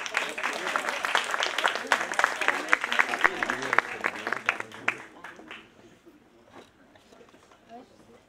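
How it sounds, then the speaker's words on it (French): Audience applause at an open-stage show: a lively burst of many hands clapping for about five seconds, then quickly thinning to a few scattered claps and quiet room noise. "on peut les applaudir aussi."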